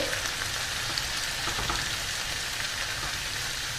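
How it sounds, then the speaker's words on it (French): Vegetables sizzle steadily in a hot pan over raised gas, deglazed with white wine, a dense crackling hiss with small pops, close and continuous without any talking. "je vais remonter le gaz et je vais déglacer le tout avec mon vin blanc"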